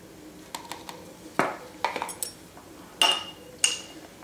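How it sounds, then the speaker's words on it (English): A spoon clinks and taps against a bowl while flour and grape water are mixed into a sourdough starter paste, with a few sharp, uneven knocks close by and no talk. "And now we just mix those together."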